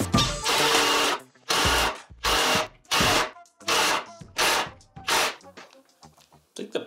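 Cordless power drill on a collapsible workbench build, running in seven short bursts of roughly half a second each with gaps between, then sputtering into weaker, uneven whirs as its battery dies; close and loud, with no talk.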